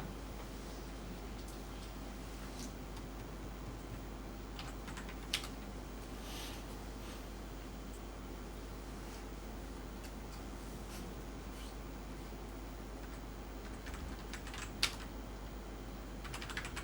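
Quiet, sparse keystrokes tap on a computer keyboard set to a Danish layout, faint and scattered against a low steady room hum.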